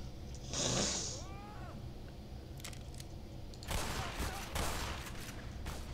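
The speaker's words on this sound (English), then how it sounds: "They just tried to shoot me." Enemy gunfire in the game Black Mesa, with a burst of sharp cracking shots followed by more scattered volleys, close and fairly loud against a low ambient hum.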